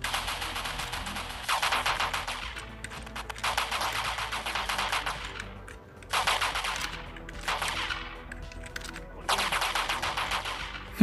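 Bursts of rapid automatic gunfire in the game GTA SA-MP on Android, in short and longer volleys separated by brief pauses, loud and dense like game weapon effects, with no talking.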